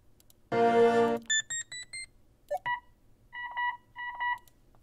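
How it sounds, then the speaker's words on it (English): A series of electronic beeps and tones, with a buzzy ringing burst first, then short chirps and repeated two-tone blips in quick clusters, fairly close and clear. "those are terrible mobile phone sounds, but really all I needed was a beep"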